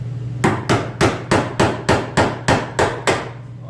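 A cheap chisel is hammered to notch the frame of a 1964 Chevrolet Biscayne: nine sharp, ringing metallic strikes in an even rhythm, loud and close, with a low hum underneath.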